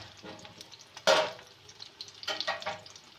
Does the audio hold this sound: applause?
no